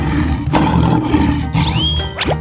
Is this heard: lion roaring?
yes